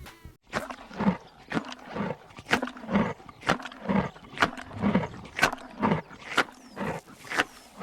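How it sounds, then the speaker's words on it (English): Deep, rhythmic growling roars from a tiger, repeating about once a second, close and steady throughout. "Now, watch out for a tiger."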